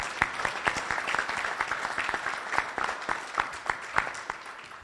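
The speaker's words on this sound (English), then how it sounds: "please give yourselves a round of applause." An audience at a DevOps Day panel discussion applauds, a steady, fairly close burst of many hands clapping that carries on without pause.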